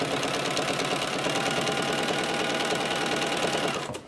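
A sewing machine runs at a steady fast pace, stitching down the middle of a folded fabric strip cord for a rug. Its even, rapid mechanical chatter is close and continuous and fades at the very end.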